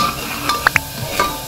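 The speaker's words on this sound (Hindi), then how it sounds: "अब हम डालेंगे नमक, हल्दी। इसे अच्छे से मिक्स कर लीजिए।" Green chili paste with salt and turmeric sizzles in a pan while a utensil stirs it, giving a steady fry hiss broken by two sharp metallic clinks and a few scraping strokes.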